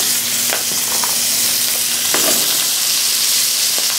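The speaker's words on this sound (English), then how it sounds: "Get some veg in there right away with that butter." Vegetables sizzle loudly in butter in a hot 13.5-inch Stargazer brazier, with a steady broadband frying hiss broken by a few sharp clinks and scrapes of stirring.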